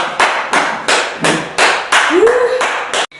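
A person clapping alone, close and loud, in a series of about seven distinct claps at a steady pace, with a short rising vocal sound near the end.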